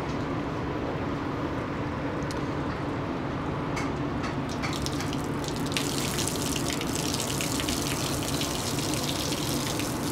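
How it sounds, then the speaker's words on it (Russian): Steady rushing of water pouring and draining, continuous and close, with a low mechanical rumble underneath and some brighter splashing toward the end. "Сейчас вода сольется"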